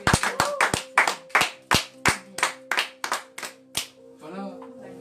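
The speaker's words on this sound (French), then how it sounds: "Est-ce qu'on peut acclamer Jésus?" Congregation in a French-speaking church clapping to acclaim Jesus: about a dozen sharp, loud claps in an uneven rhythm over a sustained musical tone, then fading into softer murmuring.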